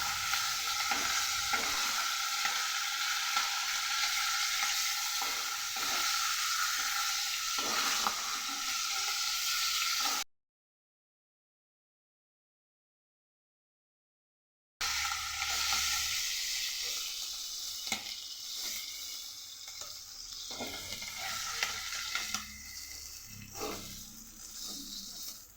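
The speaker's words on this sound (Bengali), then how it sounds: "হয়ে গেল মাছ ভাজা" Hilsa fish frying in oil in a wok, a steady close sizzle with occasional stirring clicks, interrupted by a few seconds of silence before the frying resumes.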